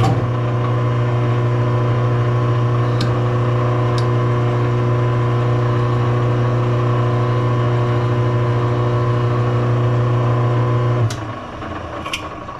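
A metal lathe runs steadily while cutting threads on a collet adjusting nut for a Royal 5C collet closer, a loud continuous motor hum and whine that drops off abruptly near the end, leaving quieter clicks.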